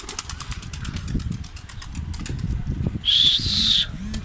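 Rapid, rhythmic pigeon wing flaps fluttering steadily throughout, joined near the end by a short high whistling tone over a low background rumble.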